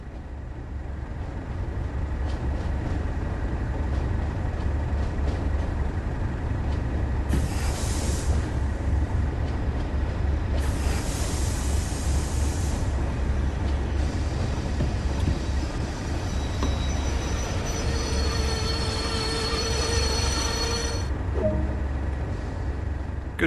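Class 08 diesel-electric shunting locomotive in Train Sim World 2 on the Tees Valley Line, a steady low rumble throughout with bursts of hiss and faint wheel or brake squeal as it slows to a stop.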